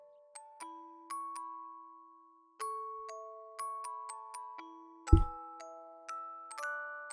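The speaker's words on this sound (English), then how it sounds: "Oh, there's a big bell. It's probably the sound we heard" A church bell rings in the video game Tokimeki Memorial Girl's Side as a series of clear, sustained chiming tones that overlap gently, with one heavy, deep strike partway through.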